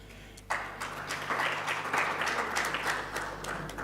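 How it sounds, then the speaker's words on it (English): Audience clapping at a Centre of Excellence launch ceremony during a colloquium, starting abruptly and continuing as steady, dense applause over a faint low hum. "whilst they are clapping hands"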